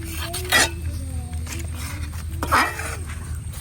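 Potato payes being stirred in a pot, with two brief spoon clinks against the metal about two seconds apart over a steady low kitchen hum.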